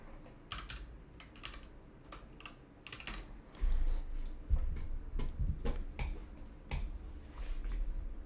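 Rapid, uneven clicking of a computer keyboard during a Monkeytype typing test, close and crisp, with bursts of keystrokes that grow busier and louder toward the end.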